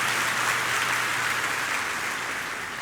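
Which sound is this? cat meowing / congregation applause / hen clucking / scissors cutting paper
congregation applause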